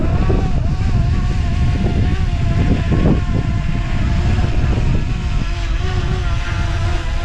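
A Potensic Atom sub-250g drone hovers and pivots in place, its steady propeller whine holding near and fairly loud throughout, with slight shifts in pitch as it turns in the wind.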